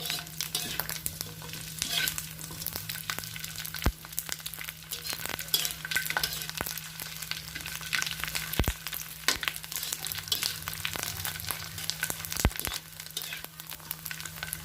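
Squid fries in oil over low heat, giving a continuous soft crackling bubble with scattered clicks of utensils, with no voices.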